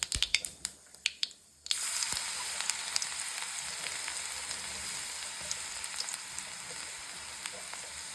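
Chopped garlic hits hot oil already holding popped mustard seeds, for an okra stir-fry. A few sharp pops come first, then a steady, dense sizzle continues close and alone.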